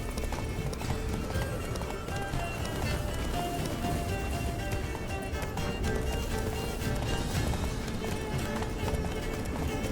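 Roach, the horse in The Witcher 3: Blood and Wine, gallops in a steady, loud clip-clop of hooves that runs the whole stretch over a busy, dense game soundscape.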